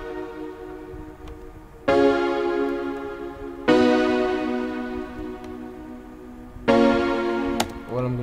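Piano chords programmed in FL Studio for a background part in an Afrobeat melody, struck one at a time with long decaying sustain, three loud chords followed by a brief short note, with no talking.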